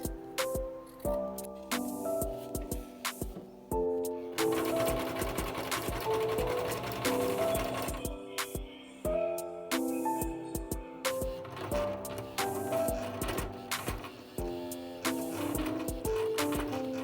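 An industrial sewing machine top stitches a leather handbag, running in repeated bursts of close, rhythmic needle clatter with brief pauses between runs.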